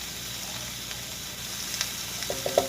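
Garlic frying in a pan for meatloaf gives off a steady, close sizzle, with a few small pops and stirring clicks near the end.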